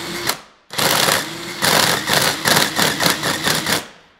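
A counterfeit Makita cordless driver with a failing motor and no torque spins up after a brief burst and pause, then runs loud and close with a rapid pulsing, rattling rhythm before cutting off.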